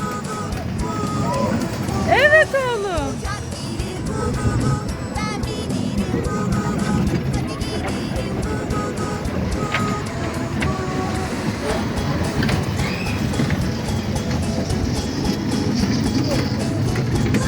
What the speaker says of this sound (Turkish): Tramvay geçti.